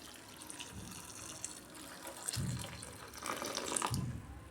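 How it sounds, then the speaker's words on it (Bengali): Hot water is poured from a vessel onto dried shrimp (chingri shutki) in a home kitchen, a soft splashing pour in two short bursts, close and fairly quiet, with no talking. "এই যে আমি গরম জল দিচ্ছি।"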